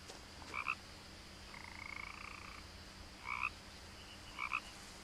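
Frog croaking in What Remains of Edith Finch, quiet and somewhat distant: short paired chirping croaks spaced a second or so apart, with one longer smooth trill between them, over a constant low hum and no voices.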